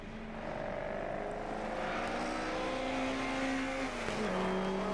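Opel Manta 400 race car on the Castle Combe circuit during a saloon car championship, a loud continuous engine note held steadily then dropping in pitch near the end as it passes close by, no talk.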